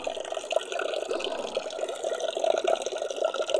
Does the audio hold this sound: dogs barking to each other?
no